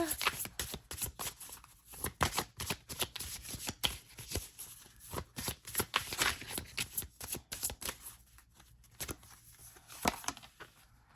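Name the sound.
shuffling Pure Magic Oracle card deck to pull a card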